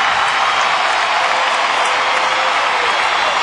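Large stadium crowd at a Houston Astros baseball game applauds in a steady, even wash of clapping and cheering, sustained and fairly loud with no break.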